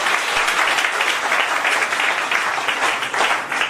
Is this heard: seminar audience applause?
yes